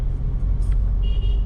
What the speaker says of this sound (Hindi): और चल पड़ी गाड़ी